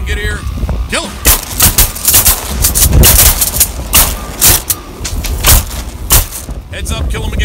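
Shotgun blasts fired at sea ducks such as scoter and green-winged teal from a boat on open water, a rapid string of loud, sharp reports spread across the stretch, with shouting voices and a low engine hum between shots.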